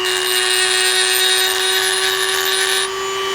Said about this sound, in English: I'm going to rough everything up with a Dremel first